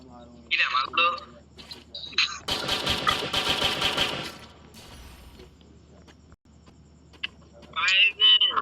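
Automatic gunfire in the Free Fire video game: a dense, rapid burst rattles loudly for under two seconds, with voices talking before and after it.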